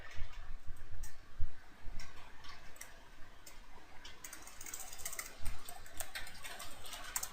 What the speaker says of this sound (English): So I type the password